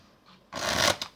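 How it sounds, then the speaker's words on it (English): A packet of playing cards is riffle-shuffled together, one quick, close, crisp burst of flicking cards lasting under a second. "Shuffle them all together."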